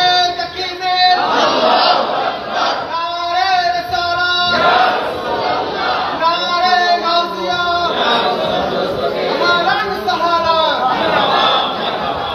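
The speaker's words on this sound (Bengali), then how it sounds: "আর জবান খুলে জোরে একটা তাকবীর হবে" A large congregation at a Bangla-language Islamic sermon shouts in loud, repeated bursts of takbir. The shouts rise and fall across the whole stretch, with a dense crowd of voices filling the space.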